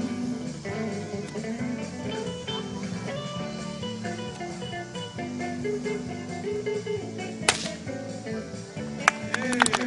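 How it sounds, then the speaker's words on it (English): Whip cracks cut paper during a family whip-cracking show at the Illinois State Fair. Two or three sharp snaps ring out late in the clip over loud music and crowd noise. "the guy at the whip would cut it piece by piece until it got so small she could no longer hold it"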